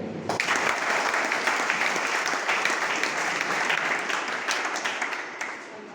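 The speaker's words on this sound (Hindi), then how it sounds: "पहले आप लोग अपने लिए तालियां बजाइए।" An audience at a talk breaks into sustained applause, a dense, loud wash of many hands clapping that starts abruptly and holds steady for several seconds before easing slightly.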